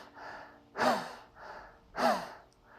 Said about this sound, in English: 21 more breaths like this